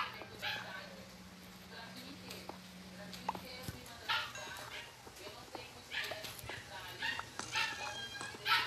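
Dog barks and yips in a Minecraft game, repeated short bursts scattered across the clip at moderate loudness, mixed with game sounds and intermittent talking.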